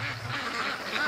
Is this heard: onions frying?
no